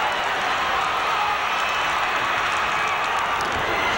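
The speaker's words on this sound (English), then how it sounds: "Tremendous crowd on hand cheering the Wildfire Tommy Rich." A large crowd at a 1983 Southwest Championship Wrestling match cheers and applauds for the Wildfire Tommy Rich, a dense, steady roar filling the hall without a break.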